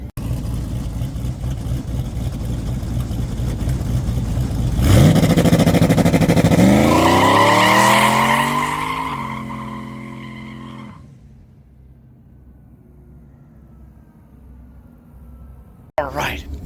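A Dirty Red race car launches off the trans brake, its engine screaming up through first gear, shifting into second and pulling hard before backing off to a low idle rumble, with someone talking around it.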